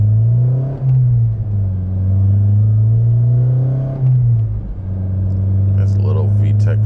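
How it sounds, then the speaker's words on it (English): An 8th gen Honda Civic Si with about 260,000 km climbs through the revs into VTEC, a loud droning engine note rising steadily from inside the cabin, dipping briefly at a shift before pulling again. "There's a little VTEC for you guys."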